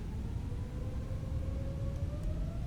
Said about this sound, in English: let's boost those engines to the max